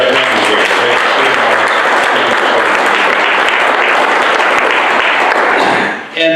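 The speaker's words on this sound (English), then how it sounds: "let's hear for a round of applause for our panel here" Loud, sustained applause from a conference audience for a panel, dense and steady for several seconds before quickly tapering off at the end.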